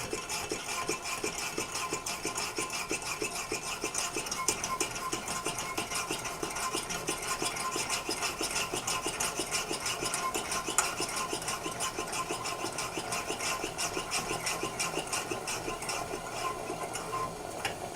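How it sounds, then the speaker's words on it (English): A Coleman white gas lantern being hand-pumped for pressure gives a steady rapid mechanical rattle and hiss that runs unbroken at an even, moderate level, with no voices. "I usually pump until I feel a significant pressure against the pump."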